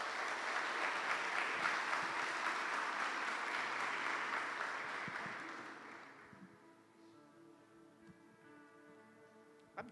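A church congregation applauds during a sermon, sustained dense clapping that fades out over several seconds into quiet room tone with a faint murmur.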